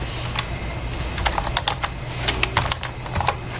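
An email address is typed on a computer keyboard, with rapid irregular key clicks and taps close up over a steady low background hum, and no voices.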